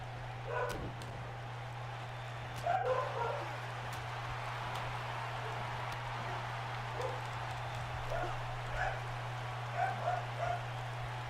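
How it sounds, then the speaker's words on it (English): A dog barks repeatedly in the distance, faint yelps scattered across the stretch beneath a steady electrical hum. "My dog is going nuts again."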